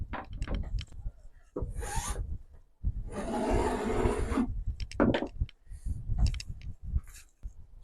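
White garment fabric for a church cape is folded into four, giving soft rustling and rubbing sounds close by, with brief handling bursts and a longer sliding swish in the middle.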